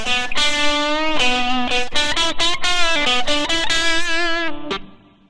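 An electric guitar runs through a Blackstar ID Core amp with reverb at full mix level, a string of picked notes and chords ringing into a wash of reverb that trails off at the end.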